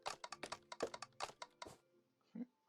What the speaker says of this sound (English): Sounds like a bunch of keyboards being typed at the same time.